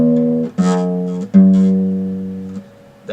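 Plucked acoustic guitar notes from a song ring out, with a low bass note moving to new notes twice as the chord sustains and fades.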